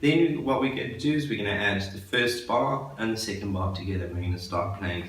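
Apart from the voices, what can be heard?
None of the usual background noises is heard.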